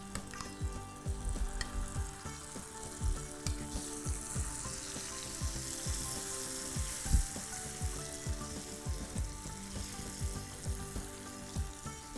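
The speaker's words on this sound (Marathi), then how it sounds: "जरा गॅस मोठाच ठेवायचा आहे मोठा ठेवून म चांगल्या मोठ्या आचेवरती याला खूप छान भाजून घ्यायचं आहे" Mushrooms roasting with masala in ghee over high heat, a soft continuous sizzle with frequent light stirring scrapes and taps, close but fairly quiet.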